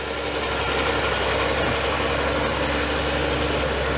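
An Allis-Chalmers D17 tractor engine idles steadily and close by, a continuous low rumble with a dense broadband mechanical chatter and no voices.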